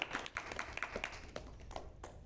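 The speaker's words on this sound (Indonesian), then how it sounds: "Tepuk tangan dulu sekali lagi untuk kita semua." Scattered hand claps from a small audience at an Islamic values gathering, a brief burst of sharp, uneven smacks with no steady rhythm, fairly faint and close-sounding.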